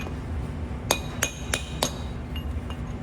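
A hammer strikes a large punch to knock a freeze plug out of a Subaru FA20 cylinder head, producing four sharp, evenly spaced metallic taps up close, with a quiet pause after.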